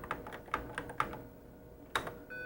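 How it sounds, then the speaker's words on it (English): A handful of separate keystrokes on a computer keyboard, slow and deliberate, with quiet gaps between the taps. "Now, if I type the same expression, Yamada,"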